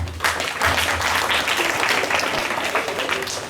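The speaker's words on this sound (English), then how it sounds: "Please clap for her." An audience at a school assembly gives a student a short burst of applause, fairly loud and continuous for a few seconds.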